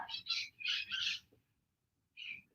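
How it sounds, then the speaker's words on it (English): A flock of wild parrots outdoors gives several harsh, screeching calls in quick bursts, then a pause and one more squawk, fairly close and with no talking. "That is a flock of parrots."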